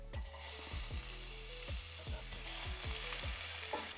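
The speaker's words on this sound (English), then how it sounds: "I will fry the onion till they are softened and light pink, but I don't want to brown them." Onions frying in hot oil in a pan make a dense, steady hiss and crackle, close and even, with a faint repeating mechanical whir underneath and no speech.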